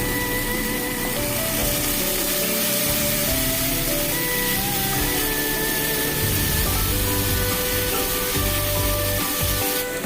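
Spice paste for fish-head muri ghonto sizzling hard in a pan, loud and continuous frying hiss with scraping and stirring clatter throughout.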